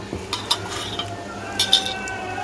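Marinade being mixed in a bowl for meat to rest an hour: soft, uneven stirring and squelching with a few light metallic clinks of a utensil against the dish, close and fairly quiet, with no talking.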